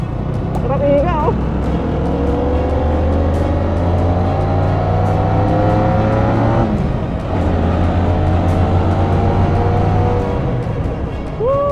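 A Honda Winner X motorcycle on a racetrack, its engine droning loud and close with rising pitch as it accelerates through the gears, a brief dip at a shift, with wind rush and a voice talking over it.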